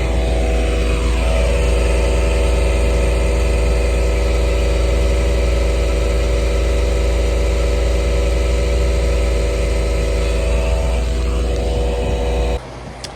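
A car engine, stored since 1989, idles loudly and steadily with a deep low drone and a slightly rough hum, then cuts off abruptly near the end.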